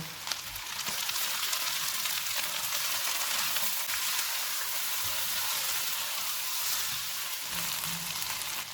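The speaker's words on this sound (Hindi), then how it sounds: "इसमें 2 टेबल स्पून अदरक और लहसुन का पेस्ट डालेंगे और इसको 2 से 3 मिनट तक भूनेंगे" Two tablespoons of ginger-garlic paste frying in a pan on medium heat for chicken bhuna masala: a steady, even sizzle that stays close and unbroken, with faint stirring scrapes.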